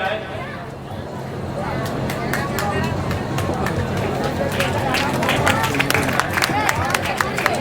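Crowd at a Ramlila ground event applauding to welcome the local MLA, steady dense clapping with background hubbub and a few sharper claps, sustained throughout.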